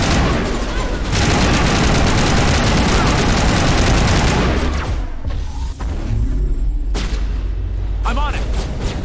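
Combat in Mass Effect Legendary Edition: loud sustained bursts of weapon fire and booming impacts fill the scene, briefly thinning before firing resumes, with voices heard amid the battle.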